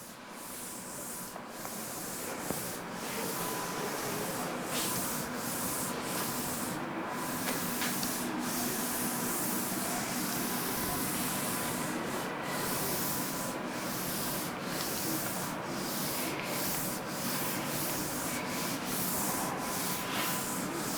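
A teacher rubs writing off a classroom board with steady, continuous scrubbing strokes, a dense dry rasp that carries on without pause for about twenty seconds, close and fairly loud.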